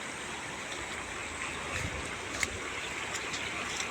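Floodwater swollen by all-night rain rushes steadily past, a broad, even roar of flowing water at moderate distance with no voices, continuing unbroken throughout.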